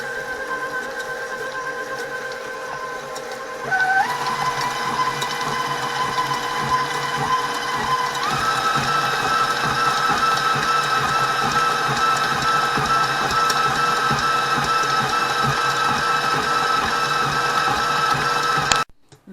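An electric mixer creams gingerbread dough ingredients of egg and molasses in a bowl with a steady mechanical motor whine. The motor steps up in speed twice and then runs on before stopping.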